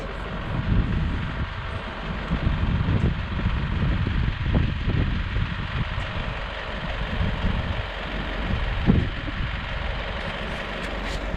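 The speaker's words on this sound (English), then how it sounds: "bus noise in back of us here" A bus engine idles nearby at Kylesku Bridge in the Scottish Highlands, a steady low rumble with wind noise, loud and continuous throughout.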